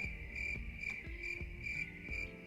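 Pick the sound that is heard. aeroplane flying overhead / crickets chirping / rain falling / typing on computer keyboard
crickets chirping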